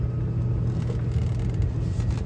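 Volvo Penta 5.7 GSI marine V8 idling around 800 RPM, a steady low rumble with a smooth even drone and no talk over it.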